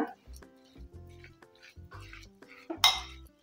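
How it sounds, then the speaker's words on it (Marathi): A ladle scrapes and clinks in a pan as a jaggery and dry fruit ladoo mixture is stirred in ghee, with short, repeated scraping bursts close up under ongoing speech. "हे पुन्हा एकदा सगळं व्यवस्थित हलवून घेऊया."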